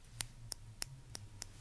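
Small scissors trim eyebrows in five soft, evenly spaced snips, crisp close clicks over a quiet hum.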